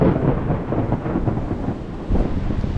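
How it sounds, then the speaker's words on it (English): A storm rolls in over the Amazon with loud, continuous rumbling thunder that swells and fades for a few seconds, heard alone with no voices. "Watching the storm roll in."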